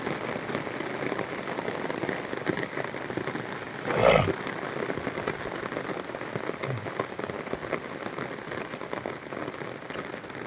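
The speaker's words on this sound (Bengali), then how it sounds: "বৃষ্টি অনেক জোরে হচ্ছে" Heavy morning rain pours steadily on a village road, a dense continuous hiss throughout with a brief louder burst partway through.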